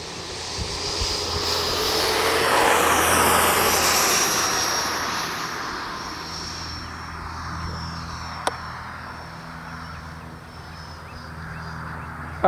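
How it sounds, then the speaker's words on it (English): An Avios MiG-17 Fresco RC jet fighter with a 90mm electric ducted fan takes off outdoors, giving a loud, steady whooshing whine that swells and then slowly recedes over about twelve seconds. "Taking off the Avios MiG-17."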